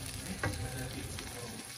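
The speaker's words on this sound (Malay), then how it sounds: "Dan tumis sehingga ia betul-betul garing dan kering macam gitu" Cooked rice stir-fried in a hot pan for a simple egg fried rice, a close, steady sizzle with a brief scraping clatter of the spatula early on.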